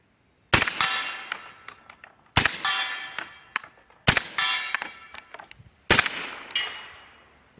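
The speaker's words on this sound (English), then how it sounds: "Here's some more shooting, alternating ammunition types." Suppressed 9mm pistol firing alternating subsonic and other ammunition, four sharp loud shots spaced roughly evenly, each followed by metallic clinks and ringing tails, with no talking.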